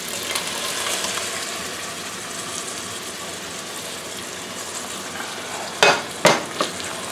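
Homemade tomato sauce poured into a pan with Italian seasonings for baked ziti, a soft continuous sizzle and stir, then a few sharp scraping clatters near the end.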